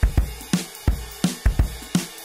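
A UJAM Legend virtual drum kit plays a heavily swung groove, with punchy kick and snare hits falling in an uneven, shuffling rhythm. It is loud and dry and plays alone.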